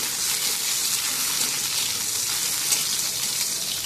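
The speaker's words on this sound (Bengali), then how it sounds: "এই মাছগুলো ভেজে নিই, সেগুলো একটু ভাজছি।" Fish frying in a pan with spices makes a steady, bright hiss and crackle of hot oil that stays close and even throughout, with no talking.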